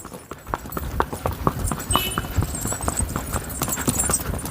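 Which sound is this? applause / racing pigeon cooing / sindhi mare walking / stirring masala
sindhi mare walking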